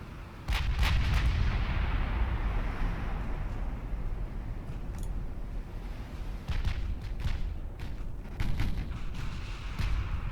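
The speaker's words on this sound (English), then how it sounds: "New Jersey's firing a 6-inch battery as well" Six-inch naval gun battery on the battleship New Jersey firing in the naval warfare game Ultimate Admiral Dreadnoughts: a sustained barrage of heavy booms with sharp cracks at irregular intervals over a constant rumbling roar, loud and close.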